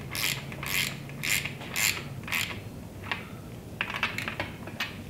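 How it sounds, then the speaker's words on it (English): A ratchet torquing down bolts on an inline six engine during reassembly, five evenly spaced loud clicking bursts followed by quicker, lighter ratcheting, close up with no talk. "we're just gonna torque them down now"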